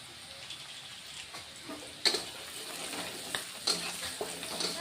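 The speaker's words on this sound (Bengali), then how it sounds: "কালো জিরে ফোড়ন দিয়ে দিলাম" Black cumin seeds crackle in hot oil with reddening onions for a Bengali mustard rohu fish curry. A soft, steady sizzle is broken by a few sharper clicks and stirring knocks, fairly quiet and close.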